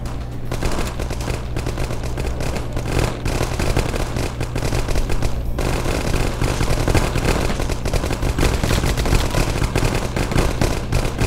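Continuous battle gunfire from an armored BMP vehicle and infantry in the 9th Company: Roots of Terror war game, a dense unbroken rattle of machine-gun bursts and rifle shots over a steady low rumble throughout.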